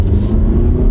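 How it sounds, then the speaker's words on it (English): A four-cylinder car accelerates under throttle, giving a loud, steady, close engine rumble that holds through the whole second. "We'll give it some gas"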